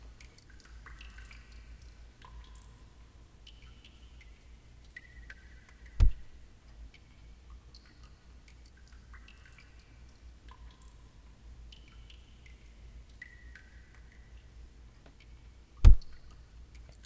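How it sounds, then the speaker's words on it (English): Slow, sparse water drips plink one at a time in a Second Life virtual club near an ice cavern, quiet and irregular over a low steady hum, with two sharper clicks standing out. "I hear like the sound of dripping water or something on those lines here"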